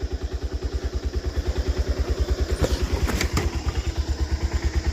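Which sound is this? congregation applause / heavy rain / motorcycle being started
motorcycle being started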